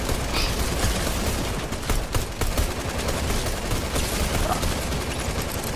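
Bursts of automatic gunfire in the video game Fortnite, a dense rapid crackle of shots filling the whole stretch with dips and surges, loud and continuous with no clear talk.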